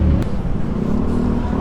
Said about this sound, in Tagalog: Grabe na traffic.